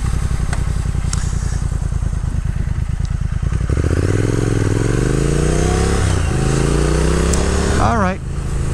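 A 2022 Triumph Speed Twin ridden spiritedly on country roads, its engine loud and close, rising and falling in pitch through gear changes, with wind noise.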